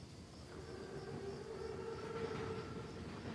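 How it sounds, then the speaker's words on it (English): An armored German Panzerzug train rolls in during a Call of Duty WW2 cutscene, a steady low rumble with a sustained whistle-like tone, moderately loud and continuous without speech. "Train's right on time."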